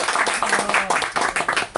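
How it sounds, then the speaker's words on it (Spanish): Audience applause at an informal talk, a dense patter of many hands clapping steadily for about two seconds, with a voice briefly audible underneath. "Ya, un aplauso."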